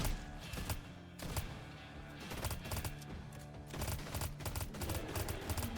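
Sharp gunshots ring out in Fortnite, tight booming blasts fired in quick succession over busy game background noise, loud and close throughout.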